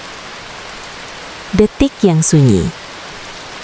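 Rain falling steadily during a motorcycle ride, a continuous soft hiss that runs throughout while a voice briefly speaks over it.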